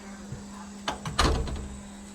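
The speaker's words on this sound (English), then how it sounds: "I'll just walk you out the front door." A house front door being opened, giving a brief close clunk of the latch followed by a louder knock and rattle as it swings, over a quiet indoor hum.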